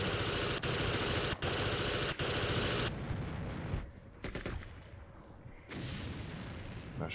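Gunfire in the video game ArmA Cold War Assault, loud sustained automatic bursts and booming shots filling the clip, continuous at first and then broken into shorter volleys.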